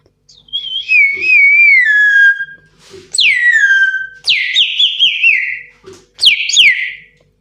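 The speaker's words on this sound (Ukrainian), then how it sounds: "якщо налить води, зараз я налила у свищик ще водичку" A water whistle warbling like a bird, four loud trilling bursts with short pauses between them, rising then sliding down in pitch.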